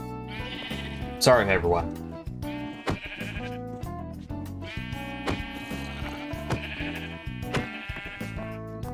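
Sheep in the Minecraft video game bleat in wavering, nasal calls several times, mixed with a person talking nearby.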